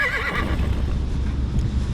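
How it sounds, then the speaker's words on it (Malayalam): A horse gives a loud, wavering whinny up close, which drops away into a steady low rumble of hooves and background noise over the remaining two seconds. "കുതിര കണ്ടോ"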